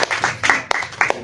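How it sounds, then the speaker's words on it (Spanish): A small audience claps for a fellow performer at a performing-arts training event, a short burst of scattered, uneven hand claps close by, no talk. "un aplauso para el compañero"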